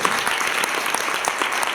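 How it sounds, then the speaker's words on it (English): Audience applause after a screen-dance artist discussion panel, a steady, dense clapping that fills the whole short stretch at an even level, with no voices over it. "Can we please give a big round of applause for those speakers today?"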